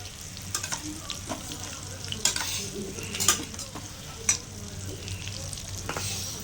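Dried fish fries with curry leaves in a pan over a medium flame, giving a continuous close sizzle with spatula scrapes and several sharper knocks against the pan, without speech.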